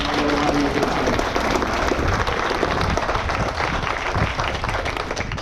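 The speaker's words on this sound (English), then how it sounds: "So please give a round of applause" A crowd claps and applauds steadily and loudly at a downtown arena groundbreaking ceremony in Mobile, Alabama, the dense clapping sustained throughout with no pause.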